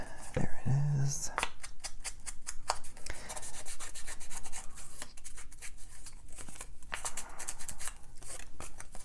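Ink blending tool scrubbing across thin red paper, repeated rapid rubbing strokes in a rhythmic scratchy pattern, close up and steady.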